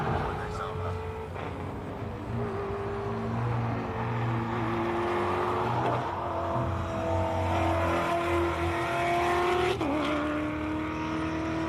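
Off-road race cars built for sand climb a tarmac hillclimb course, engines droning and revving at moderate distance with rising pitch through gear changes, while commentators talk over the sound.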